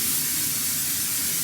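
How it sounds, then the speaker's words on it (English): Hairspray hisses in one steady, close, unbroken burst as it is sprayed around freshly cut hair, a broad airy rush that holds level for the whole moment before cutting off abruptly at the end. "So take your hairspray"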